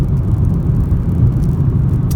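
A 2016 Hyundai i10 runs along a narrow country back road, its low engine and road rumble steady and close from inside the cabin, with no talking.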